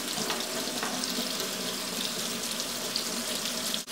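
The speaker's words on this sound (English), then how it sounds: "make sure that you rinse them out completely because you don't want any of that soap left in there" Tap water runs steadily into a sink while makeup brushes are rinsed of soap, a loud close continuous splashing hiss with no talking.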